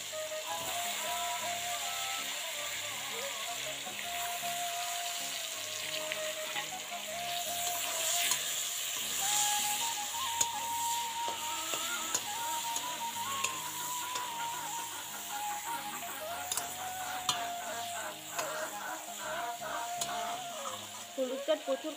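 Eggplant pieces frying in hot oil, a steady close sizzle with light stirring scrapes throughout, without talk.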